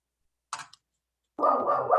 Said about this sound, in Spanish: voy a tener un concierto aquí de mis perritas acá atrás